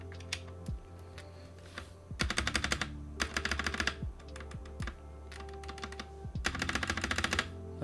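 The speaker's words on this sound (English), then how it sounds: "Alright, so let's test out the spacebar." The spacebar on a TM680 budget 65% mechanical keyboard with Box Cream linear switches is pressed repeatedly, sometimes singly and sometimes in fast rattling bursts of clacks. The sound is close and crisp, with no talking.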